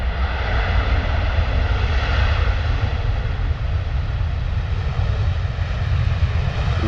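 A Ryanair Boeing 737 lands at London Stansted Airport with almost no flare, its engines a steady, loud roar that holds near throughout with no voices.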